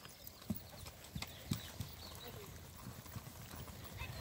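A horse trots during a training session, its hooves clip-clopping in a steady rhythm on the ground, close but fairly quiet, with faint background noise.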